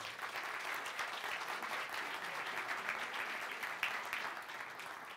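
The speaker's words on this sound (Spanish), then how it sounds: "Un aplauso para recibirlo." Audience applause welcoming a speaker at the opening of an expo in Los Angeles: sustained, even clapping from a crowd, soft and somewhat distant, with no speech over it.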